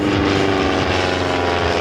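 A Vans RV-8A home-built propeller airplane flying aerobatics at an airshow, its engine and propeller giving a loud, steady, close drone with a slowly shifting pitch throughout.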